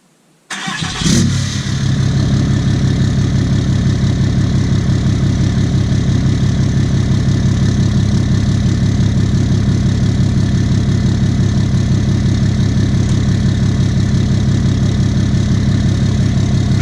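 A 2017 Cummins diesel truck with a 5-inch straight pipe exhaust and stock turbo cranks over and settles into a loud, steady, droning idle that rumbles on without a break. Nobody speaks.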